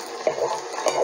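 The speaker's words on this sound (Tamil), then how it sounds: "லைட்டாக போட்டு கிளறி விட்டுக்கோங்க." A spoon briefly scrapes and stirs sautéed groundnut chutney ingredients in a pan on a switched-off stove, a close, short burst of light clinking and scraping with no voices.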